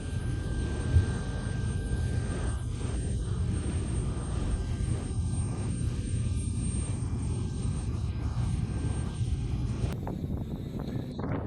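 A Delta airliner roars steadily during pushback after an engine fire, a broad sustained jet rumble with wind buffeting that continues at an even loudness before shifting near the end.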